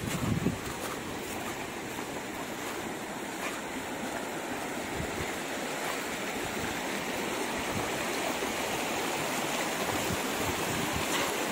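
Steady, dense rush of murky stream water flowing through a rocky lava channel on Semeru, continuous and fairly close, with no voices.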